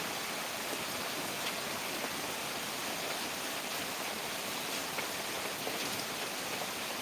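Heavy monsoon rain falling steadily, a dense even hiss of drops on surfaces with no break, fairly close and constant throughout.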